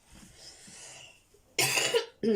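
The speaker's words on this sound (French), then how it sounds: "Encore cette toux." Quiet rustling, then a sharp, loud cough close up, followed by a second cough just after.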